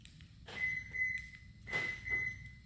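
A Toyota Prius locks from its smart key remote, giving two pairs of short high electronic chirps over a faint outdoor background.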